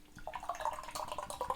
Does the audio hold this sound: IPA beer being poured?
yes